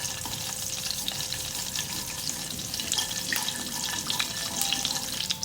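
Cumin seeds fry in hot oil with a steady crackling sizzle and scattered sharp pops, fairly close and continuous, with no talking.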